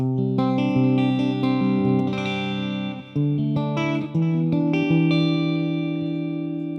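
Electric guitar played through a Super Reverb clean amp model snapshot on a digital modeler: ringing clean chords and single notes with lush reverb tails, two brief pauses between phrases.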